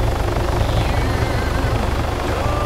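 Helicopter in the video game Arma III, a loud, steady rotor thump with continuous engine roar, heard close and alone throughout.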